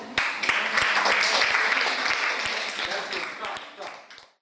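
A class of seventh-grade students claps for a classmate in an English lesson, a burst of applause that swells quickly, holds, then tapers off, close and lively with a voice briefly heard.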